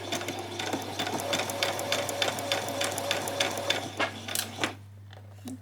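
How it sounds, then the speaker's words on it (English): A sewing machine stitches across a skirt placket in a steady, fast mechanical rhythm with a low motor hum underneath. It runs close and continuous, then stops near the end. "I'm going to come down here now and sew all across the placket"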